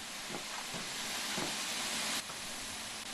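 An 8F steam locomotive in Train Sim World 5 hisses steadily at standstill, a broad airy wash with a few soft chuffs and a sudden drop in level near the end, no voices.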